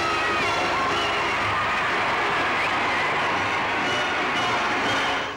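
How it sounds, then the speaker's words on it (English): A vast football crowd cheering Wolves' 1960 FA Cup homecoming, a dense continuous roar of cheers, whoops and shouting, loud and steady throughout before fading at the very end. "The vast throng of football fans fairly let themselves go, cheering Bill Slater and his team"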